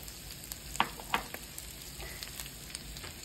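Chili seasoned with plenty of cumin, pepper and garlic powder sautés in a grandmother's pot, a faint steady sizzle broken by a few soft stirring knocks.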